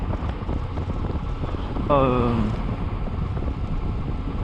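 Riding a Kawasaki Z H2 motorcycle at a steady 70 km/h, heavy wind buffets the microphone throughout, with a brief rising engine whine emerging midway before fading back under the roar.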